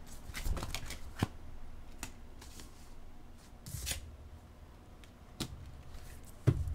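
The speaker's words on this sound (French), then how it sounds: "Je vais aller chercher 2 autres cartes pour compléter votre première rangée." A deck of tarot cards is shuffled and cards are drawn, giving quick close riffling bursts and soft flicks and slaps, separated by brief quieter pauses.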